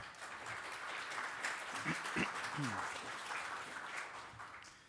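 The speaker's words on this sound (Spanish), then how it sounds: "Un aplauso para ellos, por favor" An audience claps steadily in a dense, moderately quiet burst of applause at a school leadership panel in Santiago, Chile, with a few voices speaking faintly underneath.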